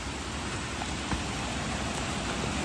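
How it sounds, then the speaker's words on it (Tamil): Steady rain pours during a monsoon motorcycle ride in Karnataka near Dudhsagar Falls, a dense, even hiss that fills the scene from start to finish with no voices. "இப்பவும் மழை தான் பெய்யுது."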